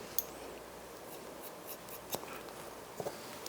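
Scissors cutting a client's hair in a salon, a soft continuous snipping texture with a few sharper, faint snips standing out over quiet background.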